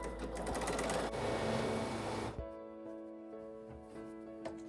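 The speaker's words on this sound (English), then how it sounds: "Now I'm going to sew the sides." A sewing machine stitches the sides of a simple fabric bag, running in a loud, fast, steady whir for about two seconds before stopping, leaving a quiet hum and a few small clicks.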